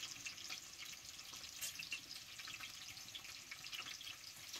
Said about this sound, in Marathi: जरा बटाटो तेलात भाजतो